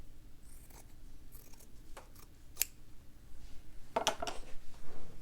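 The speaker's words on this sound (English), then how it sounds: "Just cut off the top a little bit." Scissors snip through fabric for a slow-stitched bunny ears quilt block, a few crisp, close cuts spread across a quiet room, with a busier burst of snipping near the end.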